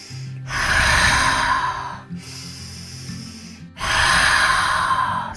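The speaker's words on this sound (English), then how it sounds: "Just continue to breathe." Deep breathing during a breathwork exercise, three long airy breaths close to the microphone, each lasting over a second with short gaps between, over soft background music.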